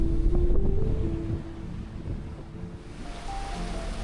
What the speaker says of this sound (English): a squall just came out of nowhere